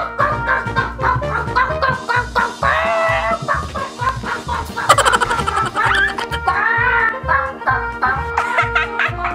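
A hypnotized cartoon character imitates a chicken, a voice clucking in rapid rhythmic bursts with rising squawks and chortling, loud and close, short clucks repeating steadily with a few drawn-out cackles.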